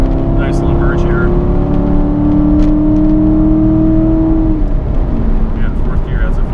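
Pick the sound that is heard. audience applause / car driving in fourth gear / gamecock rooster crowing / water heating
car driving in fourth gear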